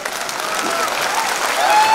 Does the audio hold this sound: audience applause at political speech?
yes